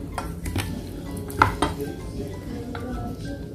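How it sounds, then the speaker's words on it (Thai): Thai pork sausage salad tossed with sugar in a bowl, soft scraping and clinking of a utensil against dishware with a few sharper knocks, close and moderately quiet. "คลุกเคล้าให้น้ำตาลละลายอีกรอบนะคะ"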